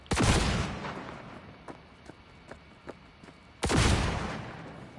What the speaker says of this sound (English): I'm just gonna shoot him.